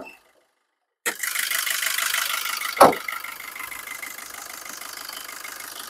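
A 2017 Maruti Swift Dzire VDI automatic's diesel engine idles steadily nearby with a low, even rumble after a brief silence, one louder thump partway through.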